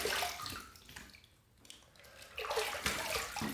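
Water runs from a tap for a face rinse after a shave, a steady close splashing flow that dips briefly midway and then surges back louder, with no talking.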